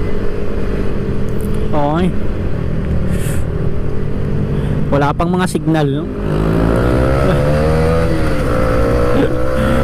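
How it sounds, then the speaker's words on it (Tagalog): Busy Taipei street traffic of cars and motorcycles heard from a Kawasaki KRV 180cc motorcycle, loud engine drone with several rising revs and passing vehicles close by, while a rider talks over it. "Dami sasakyan dito sa Taipei."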